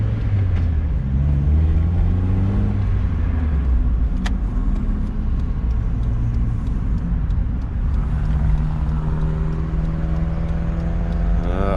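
A Mazda Miata with a rough idle pulls out onto a main road, its engine a steady close rumble with rising and falling harmonic tones as it accelerates, continuous throughout.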